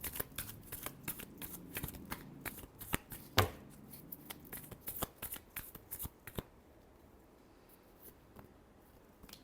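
A deck of tarot cards being shuffled by hand, close and soft: rapid riffling flutters and quick card slaps in a busy run, tapering off into quiet near the end.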